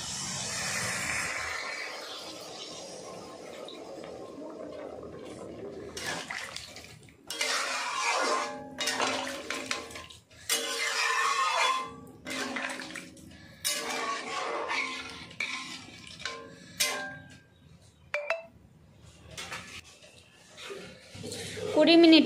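Water poured into a pan of potatoes and taro cooked down with spices, a loud splashing rush that comes in bursts with pot clatter, after a quieter stretch.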